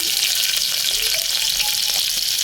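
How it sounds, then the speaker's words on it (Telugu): Onion pieces frying in oil in a pressure cooker give off a loud, steady sizzle that runs without a break, close up and alone. "ఉల్లిపాయ ముక్కలను అయితే వేసుకొని బాగా వేయించుకోవాలి"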